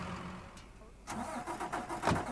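A car engine cranks and catches in the game Mafia III, turning over after a quiet start and then settling into a steady mid-pitched idle, fairly close and alone with no talk.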